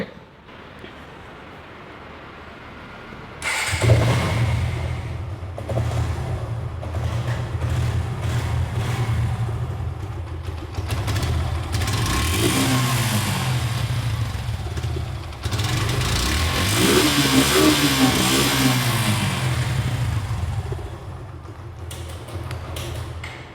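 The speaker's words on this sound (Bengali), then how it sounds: "এখন আপনাদেরকে ইঞ্জিনের সাউন্ড শোনানো হবে।" A Suzuki Gixxer motorcycle with about 1,998.5 km on the odometer starts up and runs with a steady low engine drone. It swells louder in two longer stretches of revving and is heard alone, without talk.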